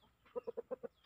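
A chicken lets out a quick series of five short clucks in an even rhythm, close and clear, with no talking.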